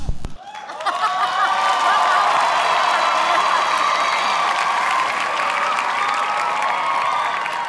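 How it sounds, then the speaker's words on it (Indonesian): A big audience at a dance competition show bursts into loud, sustained applause with cheering and whoops, swelling after the first second and holding steady throughout. "Kasih tepuk tangan yang paling meriah untuk mereka."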